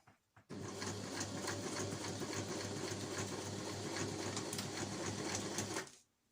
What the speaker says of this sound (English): I'm going to sew back along to the start, like I say, go over it a few stitches.